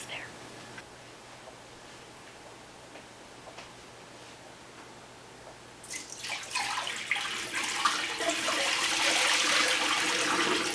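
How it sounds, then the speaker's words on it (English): Water is strained out of a bowl of pomegranate seeds, starting after a quiet stretch of soft ticking as a rising, splashing rush that grows steadily louder and fuller near the microphone. "So first I'll strain out most of the water."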